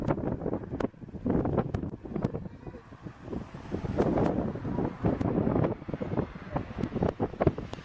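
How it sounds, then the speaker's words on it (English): Strong gusting wind buffets the microphone during an airplane landing, a rough roaring rumble that swells and fades in uneven bursts throughout. "Look at this crazy wind."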